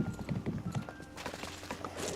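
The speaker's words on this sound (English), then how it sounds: "let's jump on our horse and head over to the plateau to find the location from the memory" Steady hoofbeats clip-clop from a horse being ridden in the Disney Dreamlight Valley video game, a quick even rhythm under quiet game ambience with soft background music.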